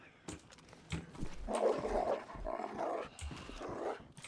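A wolf in the DayZ survival game growls and snarls in a few rough bursts, moderately close, with no talking over it.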